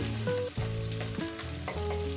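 Sole fish crackles in a pan of oil, a continuous near sizzle with a melody moving in steps on top and no voices.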